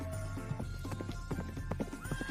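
Sound effect of a large, strong horse in a narrated folk tale, a loud whinnying neigh with clopping hooves, close and clear over a soft music bed, without narration during it.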